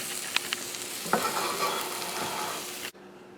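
An artichoke and chickpea scramble sizzles steadily in a frying pan while being stirred, with close scraping and clacking over the constant hiss before it cuts off abruptly.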